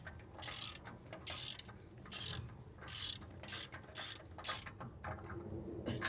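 A ratchet tightening the rear axle seal bolt on a school bus, a series of about seven close, crisp clicking bursts in an uneven rhythm over a low background hum.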